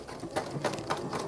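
A Janome sewing machine runs its one-step buttonhole stitch, sewing the front bar tack with a quiet, steady mechanical whir and rhythmic needle pulses, moderately close.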